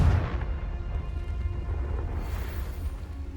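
A Confringo explosive spell cast in Hogwarts Legacy bursts with a loud, deep boom and rumbling blast that carries on as a sustained roar through the clip.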